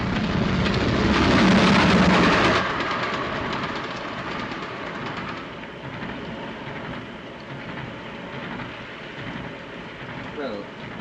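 A passenger train rumbles along the rails with a dense, steady roar that is loudest at first and then settles into a continuous clatter.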